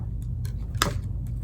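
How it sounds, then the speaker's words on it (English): A single quiet scissor snip through fabric craft material for a kawaii donut plush, one brief crisp cut against a faint, low background hum. "I'm just gonna cut it"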